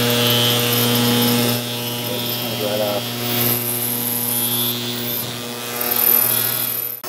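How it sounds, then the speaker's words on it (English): Ultrasonic cleaner hums steadily while cleaning nitro RC engine parts, a constant buzzing drone with high whining overtones, close by, with a voice speaking over it. "Alright, well that one's ultrasonic cleaning."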